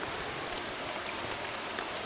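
Steady rain pattering down outdoors during a fishing outing, a dense continuous hiss of drops hitting water and surfaces nearby, with no talk.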